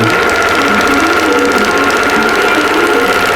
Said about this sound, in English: the whole project was going to take about 25 minutes to stitch out